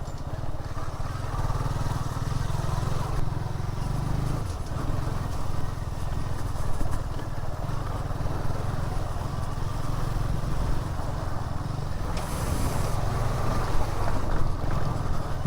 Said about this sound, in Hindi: बहुत दिनों के बाद बाइक अपनी निकली है